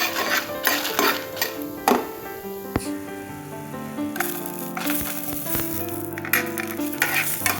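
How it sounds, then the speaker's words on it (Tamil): Whole garlic cloves fry in hot oil with roasted black pepper for a Tamil pepper-cumin kuzhambu, a steady close sizzle broken by the scrape and clatter of stirring in the pan. "நல்லா மிளகா வறுத்தோடனே பூண்டு ஆட் பண்ணிக்கலாம்"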